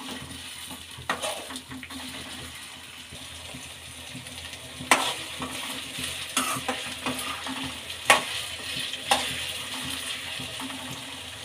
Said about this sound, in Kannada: ಎಣ್ಣೆಲೇ ಚೆನ್ನಾಗಿ ಫ್ರೈ ಮಾಡಬೇಕು. ಎಣ್ಣೆಲೇ ಇದು ಬೇಯಿಸ್ಕೋಬೇಕು